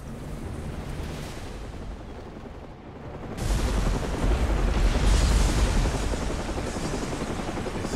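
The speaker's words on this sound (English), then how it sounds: "you just couldn't wait till New Year's, huh? Who guess the fireworks are going off early?" Explosions like fireworks going off in the Batman: Arkham Origins video game: a steady, rumbling barrage of blasts and booms, with the dense roar jumping louder about midway and holding there, no voices.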